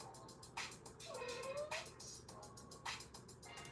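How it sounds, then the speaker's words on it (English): A distressed house cat meowing faintly in the background during a home beading session, a drawn-out caterwauling meow rising and falling over steady broadband noise, with a few brief rustling bursts around it. "No idea if you're able to hear her meowing or not."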